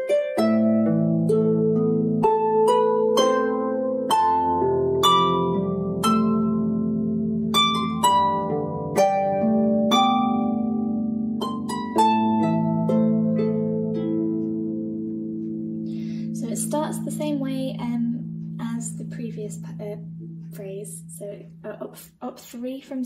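A Manx harp plays a flowing melodic passage, with clear plucked notes ringing over sustained lower strings, loud and close, the tone thinning toward the end.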